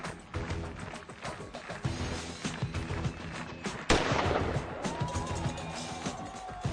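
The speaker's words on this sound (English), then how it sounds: "Only a few seconds until the starting signal will be fired off." Starting gun fired to open the 2008 UCI World Cup cross-country mountain bike race in Offenburg: a single sharp crack rings out midway through steady crowd and course noise.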